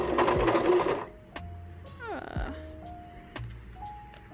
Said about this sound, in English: I'm gonna sew.